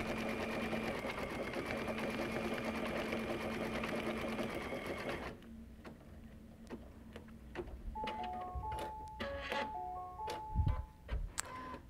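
Embroidery machine stitching a trapunto piece, a steady rapid mechanical whirring that stops midway, followed by scattered clicks, beeps and handling noises.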